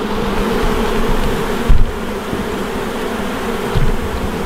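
Honey bees swarm and buzz around an opened hive during an inspection, many displaced from the top box. A dense, steady drone hangs close throughout, with a couple of brief louder bumps near the microphone.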